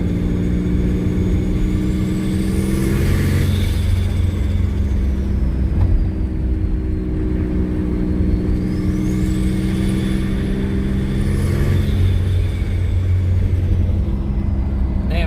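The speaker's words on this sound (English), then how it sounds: "you hear that compressor surge?" A twin turbo V6 Mustang with a wastegate leak, giving a close, loud engine rumble through rising and falling revs with a couple of high whooshing sweeps from the turbos.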